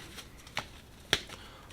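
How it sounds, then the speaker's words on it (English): Tarot cards being shuffled by hand in a quiet room, giving a few crisp riffling bursts spaced apart over a low background hiss, with no voices. "So let's go ahead and shuffle. We're going to use the Star Tarot."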